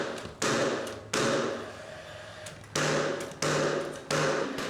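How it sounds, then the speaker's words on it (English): A cordless butane-and-battery nail gun driving nails into interior trim, several sharp, loud shots spaced irregularly, each followed by a short ring, over a steady hum of room noise close by. "he's got one of these new nail guns that uses butane and a battery"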